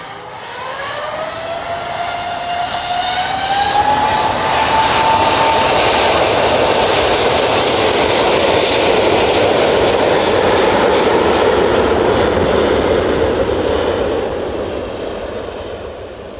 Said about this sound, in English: And that TUI Dreamliner is here as well.